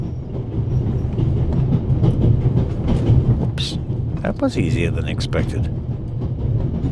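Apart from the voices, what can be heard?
train rattling along in video game The Raven Remastered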